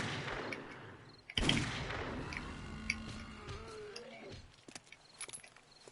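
Pistol fire in 7 Days to Die on PS4, a single loud sharp shot followed by scattered fainter pops and clicks amid quiet game ambience.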